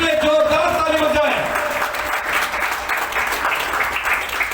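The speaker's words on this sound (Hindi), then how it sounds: "कितने में शुक्ले जोरदार ताली बजाए" Loud applause from a church congregation at a Hindi-language ministry service, a dense wash of clapping that sustains for several seconds after a preacher's voice fades at the start.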